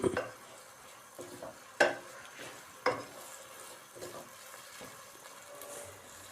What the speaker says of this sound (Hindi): मटरों को भी हम चिकन के साथ फ्राई करेंगे।